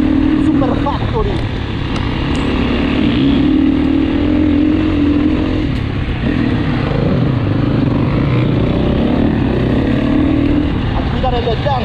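KTM 350 Super Factory dirt bike engine at a ranch track, a steady loud drone that holds close throughout with slight rises and falls in pitch as the rider works the throttle.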